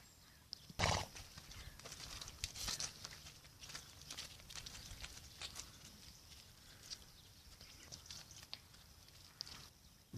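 Ponies or horses near the Aire river at Saint-Julien-en-Genevois on the French-Swiss border, heard faintly outdoors with scattered soft hoof clops and shuffling, one louder snort or whinny near the start, over a low background hum.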